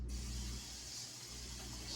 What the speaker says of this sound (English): So this is called the kitchen spritzer.